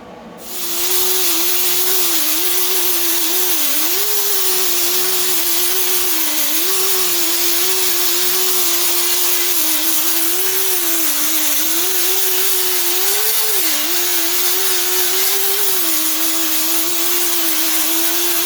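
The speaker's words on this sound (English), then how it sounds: "So I went ahead and grinded it all up, as you can see." An angle grinder cuts down weld beads on rusty sheet metal during a rust repair, giving a loud, close, continuous whine that wavers slightly in pitch as pressure on the metal changes. No one talks.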